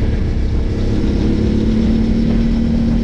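A Beta 300 trial motorcycle engine runs steadily at close range, holding an even idle-like drone with a constant low hum throughout and no voices.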